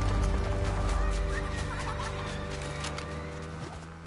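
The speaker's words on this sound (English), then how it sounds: "Just run a chicken over." A chicken in the Fortnite video game clucks over a dense, steady bed of in-game ambience and hum, with short repeated bursts and no talking.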